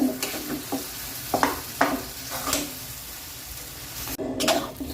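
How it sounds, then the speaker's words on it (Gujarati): Potatoes stirred and mixed in a pan on low gas for a bhaji served with dosa, with several distinct spoon scrapes over a continuous sizzle, close and fairly loud. "હવે આપણે અંદર બટાકા નાખી દઈશું અને સારી રીતના મિક્સ કરી લઈએ।"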